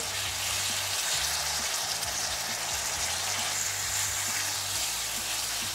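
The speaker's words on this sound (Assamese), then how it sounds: "মছলাখিনি ভাজা হৈ গৈছে" Spices fry in oil with a constant dense sizzle and crackle, steady and close, with no voices over it.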